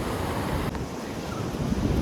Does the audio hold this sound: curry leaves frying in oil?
no